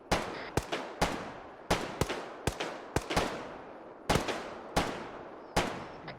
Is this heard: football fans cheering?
no